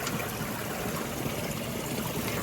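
Clear mountain stream water running down from the forest pours into a small cattle watering pit, making a steady, close, full-band rushing and trickling wash that stays even throughout with no talk.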